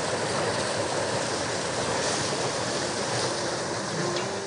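A steady, broad roar of rushing, churning water fills the whole stretch, continuous and loud, as a tidal bore wave surges up the Dordogne river from the sea.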